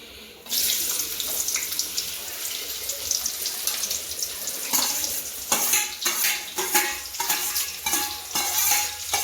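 Onions added to hot oil in a pan sizzle loudly and steadily, with clattering stirring strokes breaking through in the second half; no voices.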